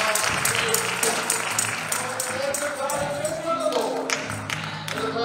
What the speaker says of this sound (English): Come on and let us clap our